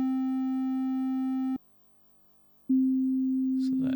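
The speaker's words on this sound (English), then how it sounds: "First one's the saw, and then as we slowly go down, it changes towards more of a sine sound at the bottom." A single Odin 2 synthesizer analog oscillator sounds a steady, loud pitched tone, cuts out for about a second, then returns with a purer, smoother timbre, and a few faint clicks follow at the end.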